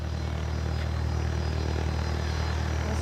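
An airplane taxiing at an airport, a steady distant propeller-engine drone that holds even and unbroken throughout without any talking.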